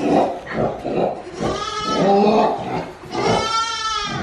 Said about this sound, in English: The pig is talking to him.